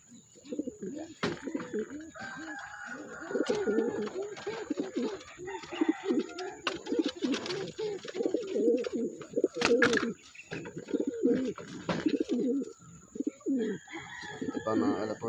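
Pigeons in a loft on a morning release, hens among them, coo steadily and close, with soft overlapping low calls and a few flaps and rustles throughout.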